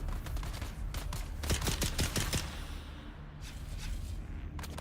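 Gunshots in the video game Dune: Awakening, a quick cluster of sharp cracks in the middle followed by a few scattered reports, set against steady background ambience at moderate distance.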